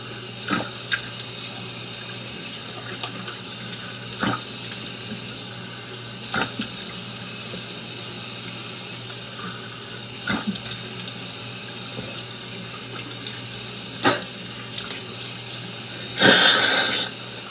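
A tap runs steadily into a sink during washing up close, a continuous hiss of water broken by occasional splashes and knocks, with a louder burst of splashing near the end.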